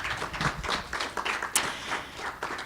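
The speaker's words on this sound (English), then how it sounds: "A round of applause for Erin." Audience round of applause at a public talk on city government, a soft, fairly distant patter of many hands clapping steadily for a few seconds.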